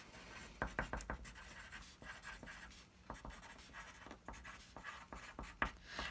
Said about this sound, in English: So I'm just going to quickly write it up here because I'm running out of room.